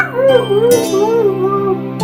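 A pet dog howls up close, a drawn-out wavering howl that rises and falls in pitch, with brief clattering noises partway through and again at the end.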